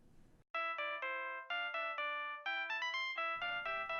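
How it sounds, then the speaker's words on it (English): A mobile phone in a coat pocket rings with a loud, repeating melodic electronic ringtone, rising and falling in a steady pattern. "the phone in my coat pocket rang"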